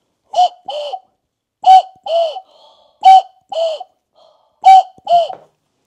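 A man whistles an imitation of a cuckoo call: four paired two-note 'cu-coo' phrases, clear and close, evenly spaced with short pauses between them.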